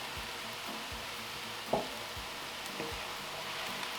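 Vegetables are stirred in a hot pan for a no-oil Mediterranean zucchini pasta, giving a soft steady sizzle with faint scraping strokes and one brief clack of a utensil, quiet and close.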